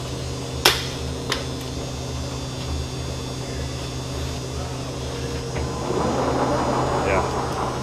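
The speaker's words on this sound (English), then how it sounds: "I got the gearbox down in low gear, running around 30 RPM" Machine gearbox running in low gear at about 30 RPM during broaching of a Kop Flex shaft coupling component. It gives a steady, close mechanical hum with one sharp click near the start, and the noise thickens slightly toward the end.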